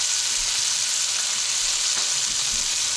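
Meat from a farm-to-table catch-and-cook sears in a hot pan while being basted with melting butter, giving a loud, continuous close-up sizzle and spatter with no talking.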